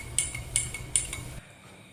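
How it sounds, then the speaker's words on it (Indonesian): A spoon stirs a lime juice herbal cough remedy in a glass, making three sharp, evenly spaced clinks against the sides over a soft swirl, then falls silent. "Diaduk dulu guys, saya bercampur."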